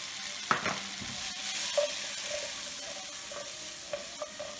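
Spring onions sizzle steadily as they are tossed and stirred in a paella pan for a seafood paella, with a few sharp clanks and scrapes of the pan standing out over the continuous frying hiss.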